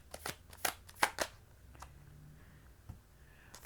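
Tarot cards shuffled and laid down for a Cancer reading, a run of crisp riffling snaps and soft slaps in the first second or so, then sparse single card flicks and taps with quiet pauses between.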